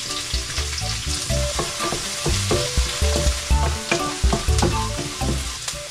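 Chopped onion and garlic sauté together in a pan for seafood pancit bihon, sizzling steadily while a utensil scrapes and clinks repeatedly against the pan, close and clear with no talking.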